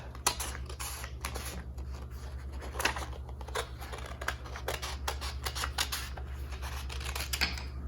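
Scissors cut straight along a line through paper for a simple children's craft, giving a steady run of close, crisp snips and rustles over a constant low hum.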